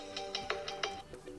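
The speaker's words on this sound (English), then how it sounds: "we can change ringtone," Melodic ringtone playing quietly on a Samsung Galaxy F22 phone, a quick sequence of bright chiming notes in a light rhythm lasting about a second and a half.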